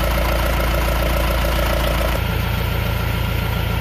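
A ROXOR diesel engine idles steadily at about 850 RPM with a slightly rattly, even low throb, heard close and continuous with no talking.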